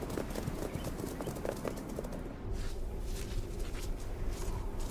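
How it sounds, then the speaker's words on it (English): Tibetan wild asses galloping across open plateau ground, a dense, steady patter of hooves carrying through the whole stretch at moderate loudness, with no voices over it. "Of all wild asses, the Tibetan wild ass is the largest, but their size doesn't impair their agility. They can gallop at speeds of up to 50 kilometers per hour."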